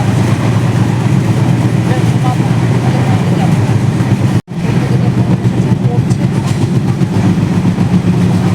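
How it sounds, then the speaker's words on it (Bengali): Passenger train pulling away and running, a loud constant rumble of wheels and carriages filling the whole stretch with a brief dropout midway, voices murmuring faintly beneath. "হ্যাঁ তো আমাদের ট্রেন ছেড়ে দিয়েছে"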